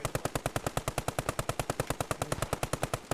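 Rapid sustained machine gun fire in the World War II shooter game Post Scriptum, a loud, even burst of roughly thirty shots over three seconds with no talking.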